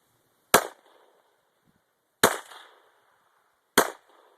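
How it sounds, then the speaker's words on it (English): Three sharp gunshots from an AK-47 fired at a Christmas tree during a tree-cutting outing, spaced unevenly, each loud and close with a short echoing tail, heard alone without talk. "You're shooting through the tree."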